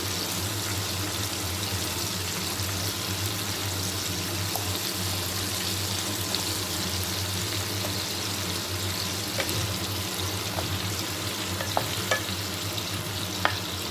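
Salted potatoes added to cumin-tempered oil fry with a steady, dense sizzle while being stirred, the close, continuous hiss broken by occasional clicks of a utensil against the pan.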